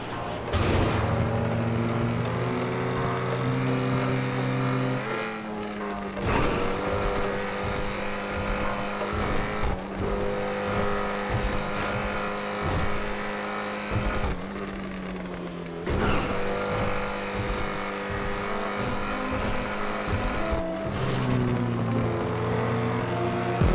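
An XA-21 sports car driven in the video game GTA 5 gives a loud, continuous engine roar whose pitch shifts roughly every five seconds, as if shifting gears, with no speech over it.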